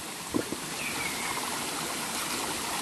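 Cold mountain stream water flows steadily on a hike at Mt. Domire in Antipolo, a close, continuous broadband rush with a soft splash or two near the start.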